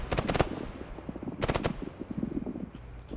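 A 20 mm autocannon in a modern armored-combat game firing at a T-72 tank: short rapid bursts of shots, with a burst at the start and another around the middle, somewhat distant over rumbling battlefield noise and scattered smaller reports.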